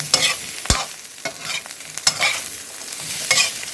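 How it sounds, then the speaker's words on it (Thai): Boiled pork stir-fries over high heat in a home garden-house kitchen, with loud, close scraping strokes of a spatula against the pan repeating every half second or so over a continuous crackling sizzle. "เราเหมือนผัดด้วยไฟแรงไป"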